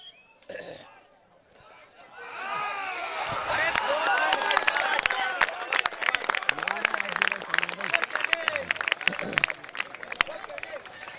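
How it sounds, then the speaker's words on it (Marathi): A crowd claps steadily at a night kabaddi tournament, Vetaleshwar Kihim versus Nageshwar Awas, during a 5-5 raid match. The dense patter of hands runs for several seconds while an announcer's voice and crowd chatter carry over it. "संपूर्ण रात्रीमध्ये जेवढ्या टाळ्या वाजल्या नाही ते आता वाजले बरं का."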